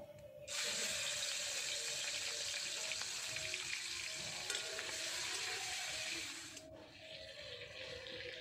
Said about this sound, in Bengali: চিংড়ি মাছের মধ্যে লবণ আর হলুদ দিয়ে চিংড়ি মাছগুলো ভেজে নেব